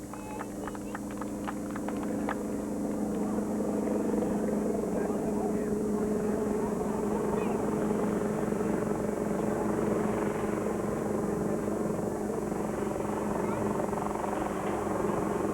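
A helicopter's steady, throbbing rotor drone fills the background while a person talks over it.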